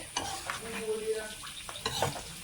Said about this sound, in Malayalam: ഇനി നന്നായി മിക്സ് ചെയ്ത് വീണ്ടും നമുക്ക് എല്ലാ ഭാഗത്തും ഇതാക്കി മിക്സ് ചെയ്ത്